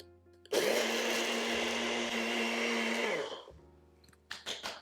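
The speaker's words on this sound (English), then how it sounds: "So we're just going to grind the oats into a flour." A kitchen blender grinds organic rolled oats into flour in one loud, steady whirring burst of about three seconds, then winds down, followed by a few short clattering knocks.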